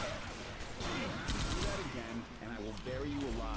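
A heavy gun in the video game Left 4 Dead 2 fires a dense, rapid stream of booming shots, continuous and loud, while players talk over it.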